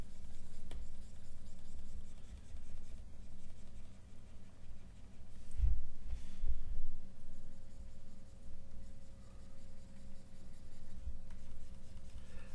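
A pencil makes drawing strokes on paper in a close, soft scratching and rubbing that comes in short repeated strokes with brief pauses.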